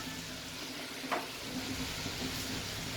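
Chicken karahi sizzles steadily in hot oil as garlic and ginger are added, a continuous close frying hiss with a brief stirring clatter, no talking.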